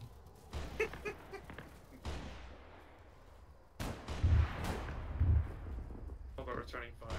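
Gunfire rings out in the military shooter game ArmA 3 with a Halo mod, loud cracking shots and booming bursts, some distant, while several players talk over it.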